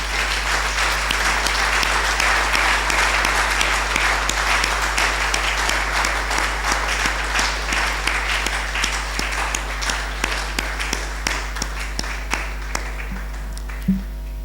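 A church congregation applauds as an offering of praise during a French-language sermon on being born again, a steady dense roar of clapping that gradually thins toward the end, with a few scattered claps and a low hum beneath.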